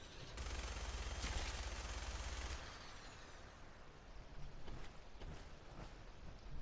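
Heavy weapon fire in Fallout 4: Far Harbor, a loud sustained burst of rapid automatic shots lasting a couple of seconds, then trailing off into scattered impacts and echoing ambience.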